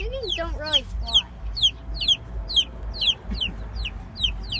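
Farm chickens clucking in a quick, steady series of short, bright calls roughly twice a second, fairly close and clear over a low background rumble.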